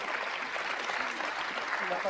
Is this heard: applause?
yes